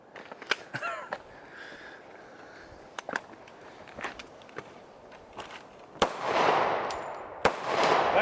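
A .45 pistol fires at a book set up as a target outdoors, giving a few scattered sharp cracks, the loudest near the end, over a rough, breezy background with small clicks and rustles.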